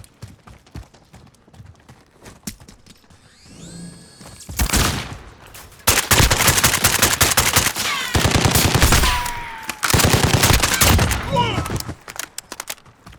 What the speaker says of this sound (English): I'll just take another round and hit someone through the wall